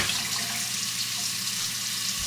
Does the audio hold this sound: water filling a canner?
yes